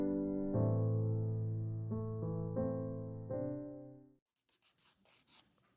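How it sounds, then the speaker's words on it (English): Acrylic nails being filed with a coarse sanding block: a few quick, scratchy strokes close by near the end, coming in after a sustained musical tone stops. "I could go and just start sanding these nails so they're more straighter"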